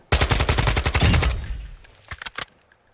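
Automatic gun firing in Modern Warfare II: a rapid, loud burst of evenly spaced shots for about a second and a half, then a few short separate shots after a pause, with no talk.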